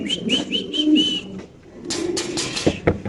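Lahori pigeons at a large fancy pigeon farm coo close by in a run of short repeated calls, followed by a brief pause and then rustling, scuffling and wing flutters.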